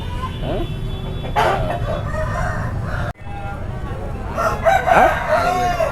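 Country roosters crowing at a Sunday poultry market in Ongole, several loud nearby crows with clucking among a busy crowd, with people talking in the background.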